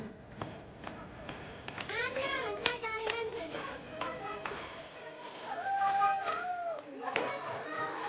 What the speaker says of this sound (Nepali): ल ताली बजाइदिउँ ल सुरु